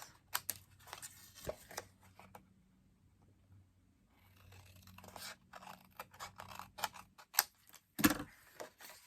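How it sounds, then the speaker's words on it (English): Soft, scattered snips and paper rustles of scissors trimming paper for a card, quiet and close, come in irregular bursts with a short silent gap partway through. "I'm just going to take my scissors and trim right next to this"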